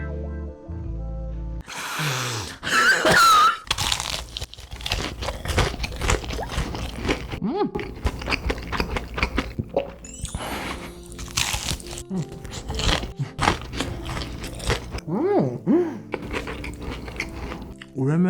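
Crunchy Bburinkle fried chicken being bitten and chewed up close, a series of sharp crackling crunches with pauses between bites, brief talk in between.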